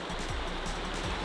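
A river flows in a snowy, snowmobile-explored landscape, giving a steady, close broadband rush of moving water with no talk over it.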